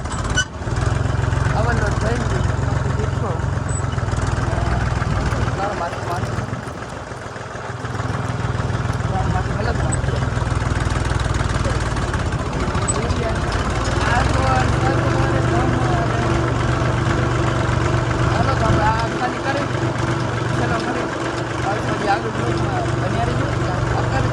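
A tractor engine runs steadily in a mung bean field, a continuous mid-pitched drone that stays loud throughout with a brief dip partway, while people talk over it.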